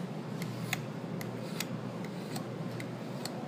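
A hand pruner blade is stroked along a lubricated sharpening stone, giving soft, evenly spaced scraping rasps, roughly two to three per second. The strokes are quiet and close, over a low steady background hum.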